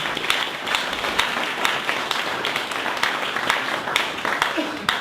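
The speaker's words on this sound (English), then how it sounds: "let's give Jim Hume a big round of applause" An audience at a talk on transformational branding claps steadily throughout, a dense patter of applause with sharper individual claps standing out.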